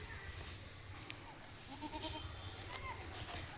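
Goats raised on open farmland give a few faint bleats over steady low background noise, with brief animal calls near the middle and end of the stretch.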